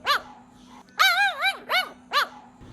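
A dog barks nearby in four sharp, yelping barks with short pauses between them, fairly loud and clear against a quiet background.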